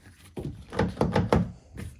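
Rear door lock actuator of a 2017 Hyundai Tucson working, a few close muffled thunks and clunks in quick succession with no talk.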